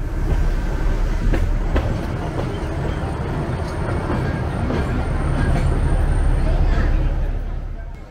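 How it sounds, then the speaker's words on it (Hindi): A Kangra Valley Railway train pulls away from a small hill station, its carriages rumbling and clattering steadily with faint squeals, loud and close throughout. "जल्दी ही ट्रेन आगे चल पड़ी"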